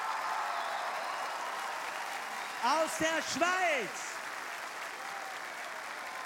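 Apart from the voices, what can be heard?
TV show audience applause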